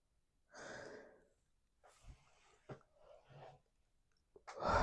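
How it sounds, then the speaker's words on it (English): A person gives a long, breathy yawn, then breathes and sighs quietly, ending with a louder exhale. "Sorry, I keep yawning. Now I can't stop."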